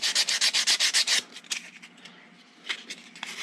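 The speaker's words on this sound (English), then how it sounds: "this is what I've ended up with, and a pretty quick sand up afterwards. This is only pine" Rhythmic back-and-forth strokes of hand sanding on a pine wood pattern, close and crisp at first, then slowing into softer scattered rubs.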